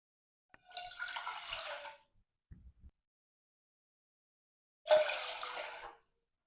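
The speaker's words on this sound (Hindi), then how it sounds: "इसके अंदर मैं 2 गिलास पानी के ऐड कर दूंगी।" Two glasses of water are poured into a cooking pan, each a distinct, fairly quiet splashing pour of about a second, separated by a pause with a faint clink in between.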